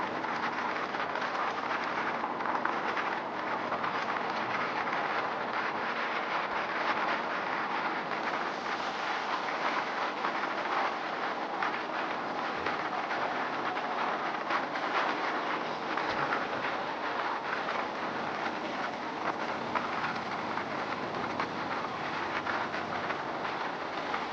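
Runicha Express 14087 rolls through the curved Sambhar Lake railway station between Ringas Junction and Kuchaman City, a steady loud rumble of wheels and carriages with faint clatter throughout, no voices.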